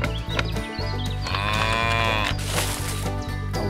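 Cows moo loudly, several drawn-out calls layered over a steady rhythmic mechanical hum and busy background noise.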